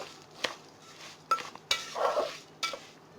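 A spoon scrapes and clinks around a pan while sugar is stirred into fried dry fruits for zarda, a sweet rice dish; several short, fairly close metallic scrapes come at an uneven pace with no talking.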